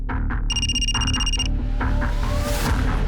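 A telephone rings in one loud, roughly one-second burst over a busy background of music and ambient noise.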